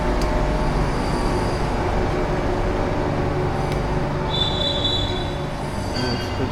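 A train rumbles past nearby with a constant low roar, and high metallic wheel squeals cut in briefly toward the end.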